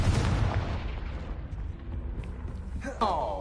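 A Confringo spell blast in Hogwarts Legacy gives a heavy rumbling boom that fades out, followed by a sharp magical crackle near the end.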